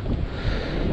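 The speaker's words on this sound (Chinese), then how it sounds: "风超级大。" Strong wind buffets the microphone on a small hillside in Guizhou, a steady low roaring rush that fills the whole moment, close and loud with no voices.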